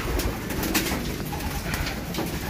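Racing pigeons coo steadily in a loft, soft repeated throaty calls layered over a constant murmur of birds, close and continuous with no talking.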